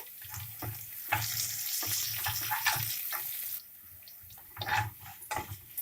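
Curry leaves fry in hot tempering oil with mustard seeds, cumin and green chillies on low flame, a crackling sizzle with bursts of pops and stirring scrapes that ease off partway, then flare briefly again.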